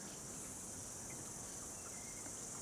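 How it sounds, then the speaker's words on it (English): A cicada sings in a forest wetland reserve in New Zealand, a faint, steady high buzzing drone that holds without a break throughout. "We can hear a cicada now."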